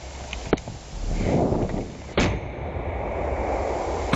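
Grenade blasts in close trench combat involving Ukraine's 3rd Assault Brigade against Russian troops: two sharp, loud detonations about a second and a half apart, over a constant rough wash of battlefield noise.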